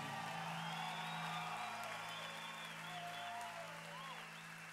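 A concert crowd at the Radiónica 2014 festival in Cali applauds the band's drummer, a faint, sustained patter of clapping with scattered whoops over a lingering musical tone.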